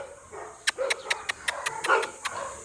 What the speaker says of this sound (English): Oh, another big dog.